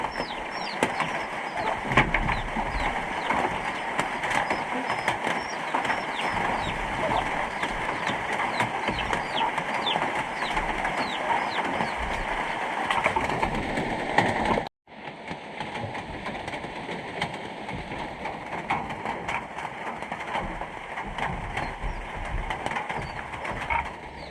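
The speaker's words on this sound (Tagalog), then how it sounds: "daming ibon" A large flock of birds, pigeons among them, chirps and coos continuously at a rural fiesta, a busy layered chorus that briefly cuts out midway before resuming.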